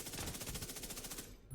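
Rapid SMG fire from The Division 2, a fast close burst of evenly spaced shots lasting over a second before cutting off.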